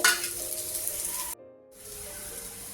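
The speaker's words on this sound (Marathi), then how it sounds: "आता यामध्ये मी आलं आणि लसूण घालते तेही परतून घेते" Ginger and garlic sizzle loudly in hot oil in a pan, a steady bright frying hiss that cuts out for a moment and resumes at lower strength, with no talking.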